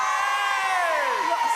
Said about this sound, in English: A huge crowd here this morning